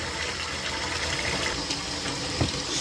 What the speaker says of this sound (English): Put some hot water in there and put the plug in